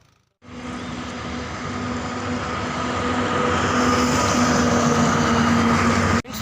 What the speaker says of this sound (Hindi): तो जब भी ट्रेन निकलती है तो बहुत आवाज़ आती है